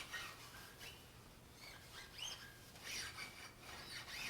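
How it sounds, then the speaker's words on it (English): A cloth wipes sandpaper dust and residue off a guitar in soft, faint rubbing strokes, several short swipes back and forth in a quiet room. "I'm just going to give everything a good wipe first, just to get some of the dust and the residue from the sandpaper off."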